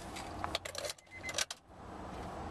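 Car keys jangle up close for about a second and a half, a bright metallic rattle in two short bursts with no talking, beside a 2001 Honda Odyssey seven-seat family wagon.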